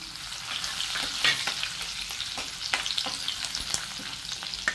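Garlic, cumin, asafoetida, curry leaves and chilli sizzle and crackle in hot oil as a tempering for a spinach dish, with a steady close frying hiss broken by sharp stirring clicks and taps.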